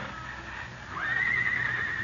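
A horse whinnies in an old-time Western radio drama, a loud, drawn-out neigh that rises and holds over a steady background hiss, with no voices over it.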